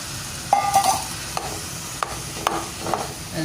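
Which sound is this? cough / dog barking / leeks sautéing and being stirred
leeks sautéing and being stirred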